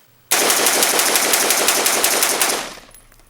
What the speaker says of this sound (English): loaded 13 rounds in magazines, pulled the trigger as fast as I can